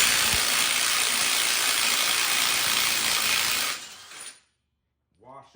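A 36mm socket loosens the axle nut on a 2007-2013 GM Chevy truck with a loud, continuous mechanical whir lasting several seconds. It cuts off abruptly into near-silence, and a brief voice follows at the end.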